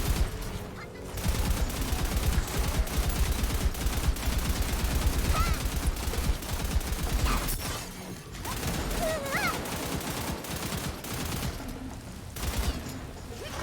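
Pistol gunfire in Tiny Tina's Wonderlands: rapid, loud bursts of shots fired nearly continuously for several seconds with game clatter and effects, then a brief pause before more shooting resumes, no talk over it.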